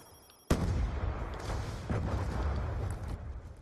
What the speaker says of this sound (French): on nous tire dessus, là